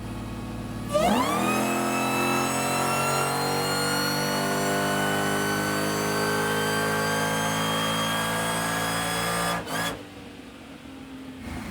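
A car engine on a dynamometer climbs steadily in pitch as it revs hard in gear, a loud sustained drone that holds for several seconds before cutting off abruptly near the end.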